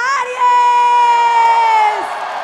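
A crowd cheers and whoops for a drag performer at the grand final of a drag competition, with a sustained held vocal cry riding over the steady roar for about two seconds before fading.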